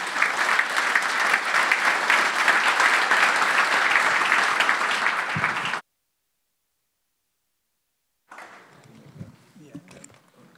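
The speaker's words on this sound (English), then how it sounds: "let's give another round of applause for that" An audience at a teaching and coaching summit applauds in a loud, dense, sustained ovation lasting several seconds before stopping abruptly; after a silent gap, faint scattered sounds and murmuring follow.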